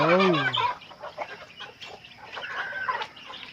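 Pet chickens and chicks cluck and chirp close by on a small farm, with a rising squawk at the start followed by softer, busy clucking and peeping.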